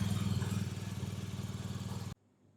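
A BMW R 1250 GS Adventure boxer engine idles briefly after an oil change, a close, pulsing, lumpy throb for about two seconds before it is switched off and goes quiet.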